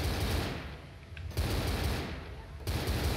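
Loud, rapid gunfire from the zombie shooter Left 4 Dead, dense automatic bursts that ease off briefly around the one-second mark, then resume at full intensity and keep pounding through to the end.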